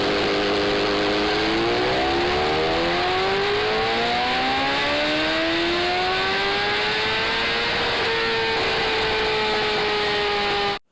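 A motorcycle engine on a dynamometer revs up through rising pitch, holds high, dips briefly and climbs again before cutting off abruptly; loud, steady and close, no voices.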